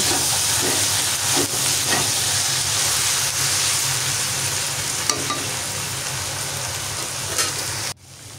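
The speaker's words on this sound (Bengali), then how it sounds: "নাড়াচাড়া করে 15 মিনিটের মতো রান্না করে নিচ্ছি।" Beef tripe sizzles and fries steadily in a pan over low heat, with a constant loud hiss and occasional scrapes and clinks of stirring, uninterrupted for several seconds before cutting off near the end.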